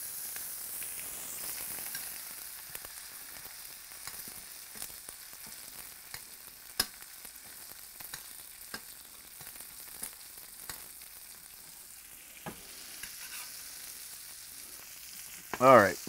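Herbs, garlic and butter sizzle steadily in a hot pan while cooking a steak for an overloaded baked potato, a continuous close frying hiss with small crackles throughout and a brief louder clatter near the end.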